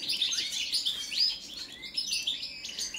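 A caged Balkan goldfinch (Carduelis balcanica) sings a close, lively stream of bright twittering notes and quick trills, continuous over a quiet room background.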